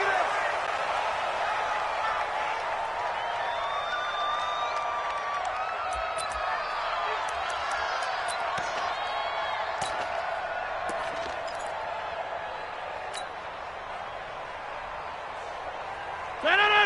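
A steady roar of stadium crowd noise in a PS4 football video game, ahead of a Miami Dolphins versus Jacksonville Jaguars matchup, holding level throughout with faint whistles and chatter inside the din.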